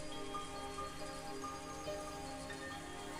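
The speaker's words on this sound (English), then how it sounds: "the cold air and the sound of the rain didn't change a bit" Rain sound effect from the visual novel Higurashi When They Cry Kai, a soft, steady patter of rain falling continuously, faint and even throughout.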